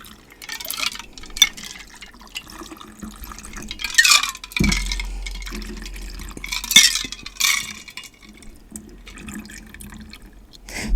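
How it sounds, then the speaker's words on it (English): A tequila and rum cocktail pours into a glass, making liquid trickles and drips broken by short splashing bursts. Faint clinks of glass come through, with no talking. "Pour out your cocktail."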